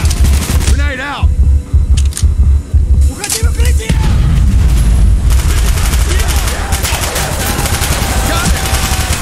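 Grenade blast and gunfire in Call of Duty: Black Ops, with loud rapid shots and booming impacts over the first few seconds, then a sustained heavy rumble and crackle of combat; a voice briefly shouts amid the noise.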